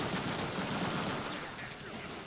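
Rapid pistol gunfire in a Deadpool action video game, a dense, loud fusillade of shots overlapping with busy game noise throughout, with no pause.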